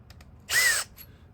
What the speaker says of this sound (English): Just using this impact driver.